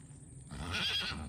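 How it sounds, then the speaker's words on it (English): Jimmy the horse gives a single short neigh, a breathy, rising whinny up close that lasts about a second after a quiet moment. "Gonna go say hello to Jimmy the horse."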